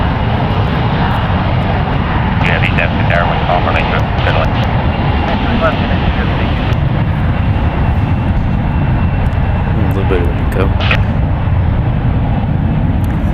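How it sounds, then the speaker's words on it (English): A United Express SkyWest regional jet takes off from San Francisco International for San Luis Obispo, a loud continuous engine roar dominating the scene, with brief faint chirps and a voice surfacing over it. "that was United Express up with Skywest Airlines 5623 going to San Luis Obispo"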